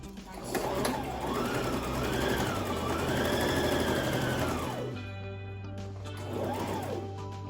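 A sewing machine stitches a fabric face mask with an elastic ear loop, giving a loud, steady whirring hum that rises and falls in pitch as the speed changes. It stops briefly, then runs again in a short burst.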